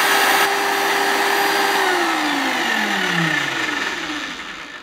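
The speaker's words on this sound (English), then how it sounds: "the machine is actually quite noisy. And I think that a lot of that comes down to the gearbox." A Scheppach DP 60 710 W bench drill with a noisy gearbox runs with a loud mechanical whine, then its pitch drops steadily as it winds down near the end.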